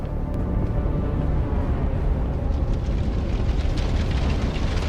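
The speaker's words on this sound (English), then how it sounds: "A HIMARS missile lands perfectly on its target." Deep, rumbling blast of a HIMARS rocket striking its target in the war in Ukraine, a heavy low roar that rolls on steadily for several seconds from a distance.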